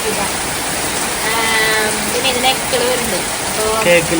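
Heavy rain pours steadily in a dense, constant hiss, with a few faint voices murmuring underneath.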